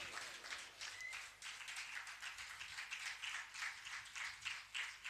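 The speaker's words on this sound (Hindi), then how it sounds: "अब शालोम के लिए भी जोरदार तालियां" An audience at a Hindi church service applauds, a steady, faint wash of many hands clapping together with no voices over it.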